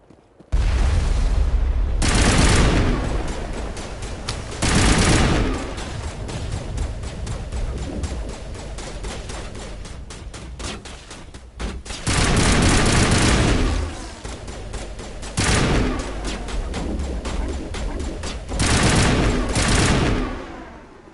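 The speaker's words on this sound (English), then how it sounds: "There must be a way to shut that gun down." Heavy gunfire from a turret in the video game Mass Effect Legendary Edition, loud sustained bursts of automatic shots and booming impacts in several long volleys with short lulls between.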